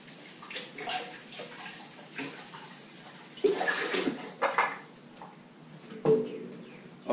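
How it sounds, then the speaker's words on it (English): Spinach and kale get rinsed under running tap water in a kitchen, a soft hiss of flowing water with splashes and louder bursts as the leaves are moved under the stream, close and fairly quiet. "Let me just give this a rinse."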